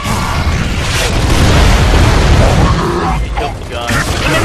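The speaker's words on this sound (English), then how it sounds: "We got mortar." Heavy mortar blasts thunder through a Gears of War 3 multiplayer tournament match: loud, continuous rumbling booms and bursts for several seconds, close and dense, easing slightly near the end.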